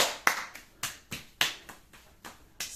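Hands clap rhythmically on the body during a manual neck and back massage, with about ten sharp, close slaps in a steady, slightly uneven beat and no talking.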